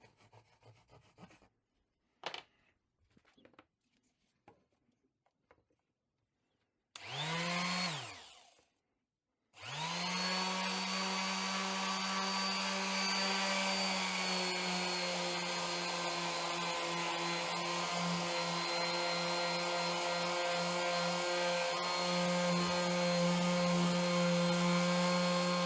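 A Hychika orbital random sander sands a dirty piece of pine. A few scattered knocks and a brief spin-up come first, then a loud steady buzzing whir runs continuously to the end.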